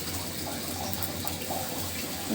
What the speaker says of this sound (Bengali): তো চালটা সুন্দর করে ধুয়ে নিলাম।